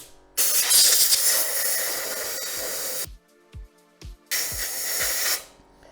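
Compressed air can spraying to clean the hybrid battery fan of a 2011 Toyota Auris (E150): two long, loud, close hissing blasts separated by a pause with faint clicks and handling knocks.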